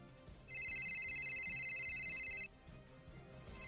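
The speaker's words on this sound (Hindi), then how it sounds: "तभी मेरे फोन पर गुप्ता जी की कॉल आई" A phone ringtone sounds for an incoming call, a steady two-tone electronic ring lasting about two seconds over a quiet background.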